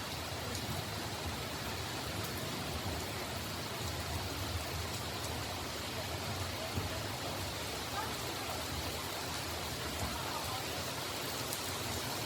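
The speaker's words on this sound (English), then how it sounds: "as the rain started to come down pretty heavily" Heavy rain falls around the Talyllyn Railway in Wales, a steady, dense, even hiss that fills the whole stretch without a break.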